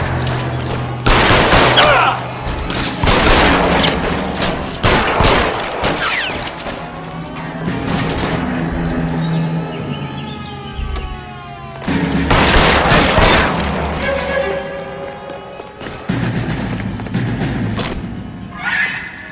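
In the L.A. Noire crime game, a loud shootout erupts in dense volleys of gunshots with heavy impacts, fading into a quieter stretch of scattered shots before another intense barrage.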